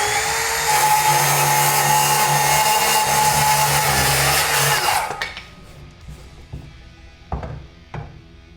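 A saw blade whines loudly through hard, dense premium decking for about five seconds, then stops, leaving a few scattered knocks and clatters of wood being handled.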